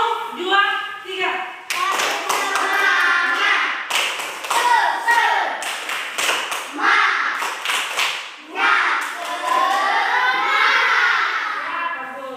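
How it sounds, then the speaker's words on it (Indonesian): Classroom of children performing a rhythmic 'tepuk semangat' spirit clap, bursts of patterned hand claps mixed with children's chanting voices, close and loud throughout. "mari kita dulu tepuk semangat"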